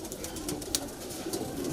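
Pigeons of the high-flyer kalpare breed in a loft in Patna city, giving soft, low cooing calls nearby and fairly quiet.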